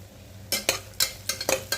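Green chilies sautéing in oil with onions for vegetable brinji, heard as a quiet sizzle broken by about six sharp stirring clatters of a spoon against the pan.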